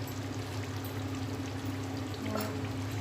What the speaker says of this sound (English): Adding the paste of coconut and cashew nut.